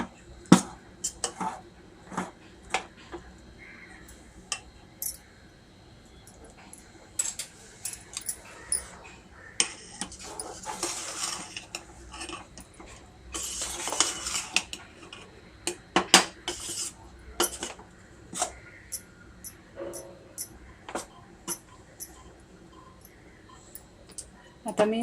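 Patole dough for a traditional turmeric-leaf sweet being stirred in a pot with a metal utensil. It sounds like a long run of irregular clinks, scrapes and taps, close and fairly quiet, with brief louder scraping bursts.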